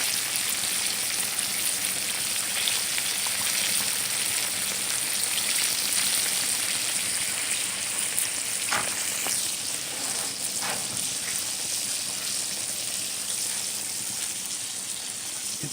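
Green tomato slices fry in hot oil, a steady, close sizzle and crackle running loud and unbroken throughout, with a few sharper pops and no talk.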